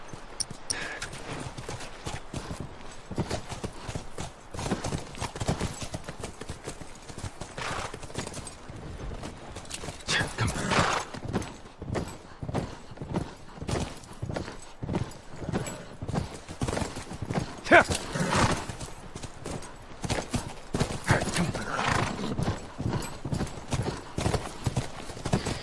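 Horse hooves clip-clop steadily across the ground in The Last of Us video game, a close rhythmic clatter of several strides with occasional whinnies and neighs breaking through.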